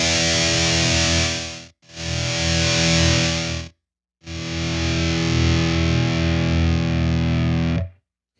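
Heavily distorted electric guitar, with boosted bass and strongly pushed mids, played loud and dense in three sustained bursts separated by short silences.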